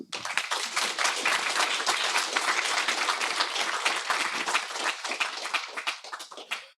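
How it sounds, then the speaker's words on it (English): Brisk, dense clapping from an audience at a C++ expert roundtable, steady throughout and fading at the close. "Does that deserve a round of applause?"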